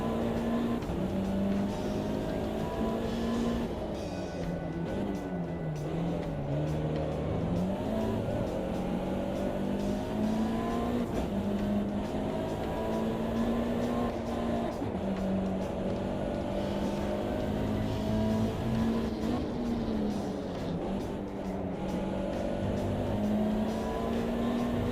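A race car in a sim racing game drives laps while its tyres warm up, the engine holding a steady, loud, continuous drone whose pitch rises and dips with gear changes throughout.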